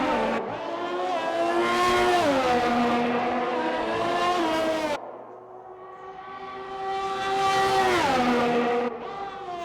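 A Formula One car, a Haas, on a hot lap at the Dutch Grand Prix in a racing game, its engine screaming loud through rising gear revs, a sharp upshift drop midway, then climbing again.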